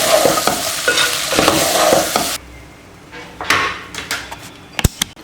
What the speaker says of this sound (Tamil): இப்போ ஸ்டவ் ஆஃப் பண்ணிவிட்டு நீங்கள் கிளறி விட்டுக்கோங்க